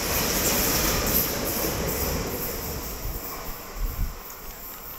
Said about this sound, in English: There's a train going fast